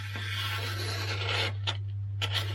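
The edge of a Fallkniven or TOPS Silent Hero knife draws through paper in a slicing test, giving a close, coarse scraping rasp with a few short catches toward the end over a steady low hum.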